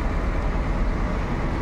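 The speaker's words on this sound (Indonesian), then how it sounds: "Bus MPM siap meninggalkan terminal Kampung Rambutan dengan nickname Sadulur." An MPM bus pulls out of the Kampung Rambutan bus terminal, a steady low engine rumble and broadband road noise close by, continuous with no talk.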